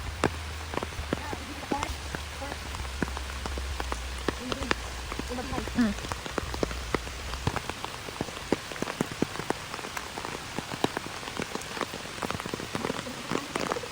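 Heavy rain pours down, a dense continuous patter of drops striking surfaces close by, with a low rumble early on fading out midway and the downpour holding steady to the end.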